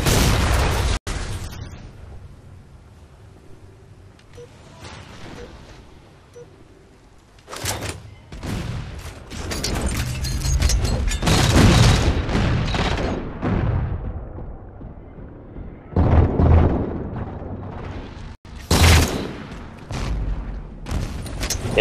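Grenade explosions in a Halo 4 capture-the-flag match, with loud booming blasts and bursts of gunfire that come in clusters over roughly twenty seconds, some of them sharp and close and others rolling and sustained.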